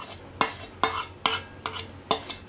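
A utensil scrapes homemade laundry detergent mixture from the sides of a container in five regular strokes, each a close scratchy rasp ending in a light knock, no talking.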